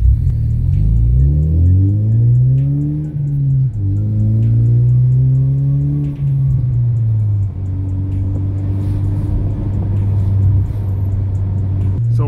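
An S550 Mustang accelerates onto a highway, heard from inside the car: the engine rises in pitch through several gears, then settles into a steady, loud cruising drone.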